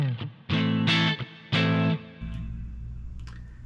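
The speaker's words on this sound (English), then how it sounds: "just show the reverb" Electric guitar played through a Quilter direct amp set to the Fender amp type with a V30 closed-back cab, reverb on: a few strummed chords ring out loud, then a reverb tail washes away while faint picked notes sound near the end.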